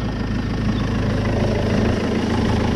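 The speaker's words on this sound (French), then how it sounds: "Démarre-moi cet engin qui va faquer du diable." A Ulysse engine with a newly fitted turbo runs steadily just after starting, with a leaking coolant seal. It is a continuous, even idle with a heavy low rumble and vibration, fairly loud, with no talk.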